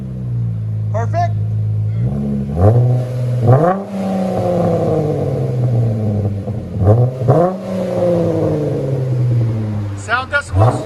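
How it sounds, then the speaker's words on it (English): A 2012 Dodge Challenger V6 with a rear muffler delete revs up repeatedly, its exhaust rising and falling in several throttle blips, loud and close, while people talk over it. "I always like the rear muffler delete on those. It's just a really smooth sound, you know?"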